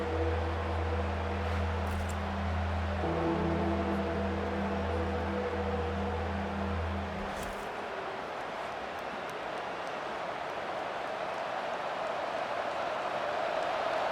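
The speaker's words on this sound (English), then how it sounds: "Listen to this crowd just shaking the girders of this place trying to help their defense" A stadium crowd roars in a EA College Football 25 simulation of UCLA at LSU, a broad, loud, sustained wash of noise that swells steadily with low tonal hum fading out partway through.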